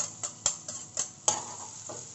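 Crushed garlic stir-fried in a pan, a soft sizzle under a few sharp scraping and stirring strokes spaced irregularly, fairly quiet and with no talk.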